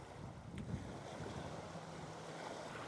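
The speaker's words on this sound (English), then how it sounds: "the wind persists here" Steady wind rushes loudly and continuously near water on an outdoor landscape photography shoot, a broad blustery roar with a brief gust-like swell early on and no voices.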